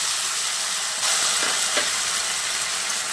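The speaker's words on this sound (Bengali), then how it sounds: "এবার বাদাম বাটাটা দিয়ে আলুর সঙ্গে ভালো করে নেড়েচেড়ে মিশিয়ে নিতে হবে।" Peanut paste being stirred into potatoes in a pan for a Bengali banana-stem curry, heard as a steady broad sizzling hiss with a few soft scraping stirs partway through, no talk.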